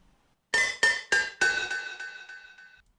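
Cup struck and turned into musical notes with added reverb, four bright glassy clinks in quick succession, the last ringing out in a long shimmering decay.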